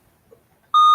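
A quiz buzzer at a junior high scholastic team match gives one sharp, loud electronic beep that starts abruptly after near silence and holds steady to the end.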